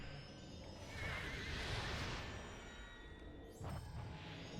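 A horse neighs in the online game Lord of the Rings Online, a loud whinny rising and falling over soft background rumble, followed by a brief thump.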